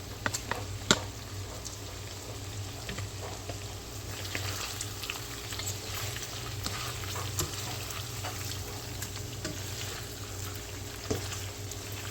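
Cabbage and bacon cooking down in a pan, a constant even sizzle and crackle of frying in bacon grease, with a few soft stirring sounds and no pauses.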